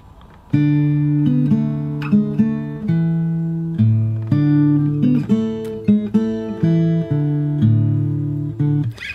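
A fingerpicked guitar melody of a song from Beauty and the Beast plays slowly, single notes and soft chords plucked one after another, ringing and decaying cleanly between each pluck.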